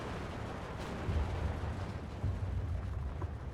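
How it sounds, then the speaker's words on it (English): Soviet IL-2 ground-attack aircraft strafing a central bridge in the WWII strategy game Steel Division 2, heard as a dense, continuous low rumble of rapid cannon fire and explosions that swells to two louder bursts in the middle of the clip. "IL-2 coming in, making a gun run on the central bridge"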